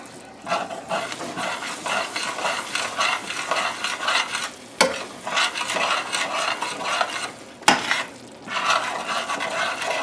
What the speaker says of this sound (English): Let's give it a stir and see what we're looking at